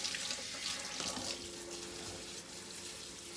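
Steady splashing of water poured over a potted orchid and its pebbles, trickling close by, continuous for a few seconds with no talking.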